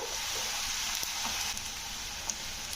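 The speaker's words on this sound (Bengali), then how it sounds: "পেঁয়াজটাকে কিন্তু একটু ভাজা ভাজা করে নিতে হবে" A soft, steady sizzle of onions frying in a pan, with an occasional light tap or stir.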